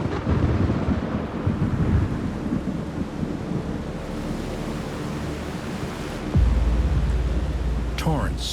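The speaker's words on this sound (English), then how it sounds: "and may have triggered epic storms over the continents." Thunder rolls and rumbles loudly through a storm with steady rain-like noise, a deep crash swelling again near the end.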